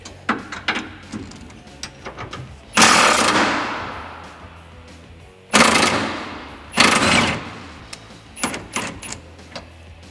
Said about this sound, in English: Next thing we're going to do is loosen up the bolt that holds the leaf spring in place.